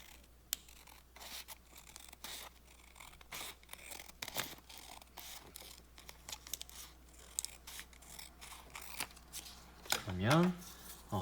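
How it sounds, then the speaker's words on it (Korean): Scissors cut along a drawn line on paper to make an isosceles triangle in a classroom lesson, a run of close, irregular snipping and rustling crunches with a brief paper scrape near the end. "이 선을 따라서 가위로 자르면 됩니다."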